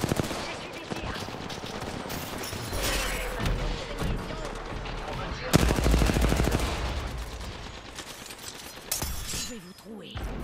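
Gunfire in a battle royale video game: loud bursts of rapid automatic fire and repeated shots run throughout, with a heavy blast near the middle and sharp impacts scattered between.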